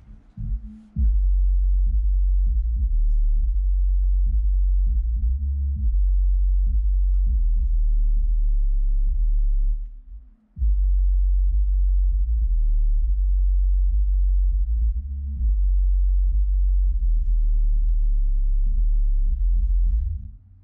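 A 4th order bandpass subwoofer plays music with a loud, deep bass line that pulses and shifts pitch, with a brief dropout midway and faint rattling from the roof, captured in a car.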